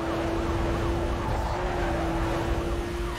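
A police siren wails steadily during a high-speed pursuit in the racing game Need for Speed: Most Wanted (2005), loud and continuous over engine and road noise, with no talk.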